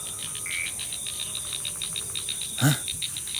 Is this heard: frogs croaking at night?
yes